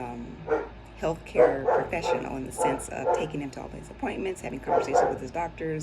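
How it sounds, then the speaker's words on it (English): A neighbor's dog barks repeatedly outside, several sharp yips and barks sounding under steady indoor talk. "I'm sorry, that's my neighbor's dog."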